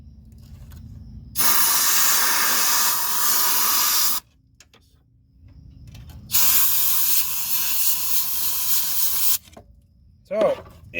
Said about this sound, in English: I'll shoot some compressed air in there.